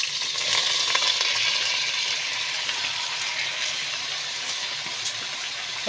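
Rice going into a pot of hot oil and butter, giving a steady bright sizzle and crackle of frying that holds at moderate volume throughout, with no talking over it.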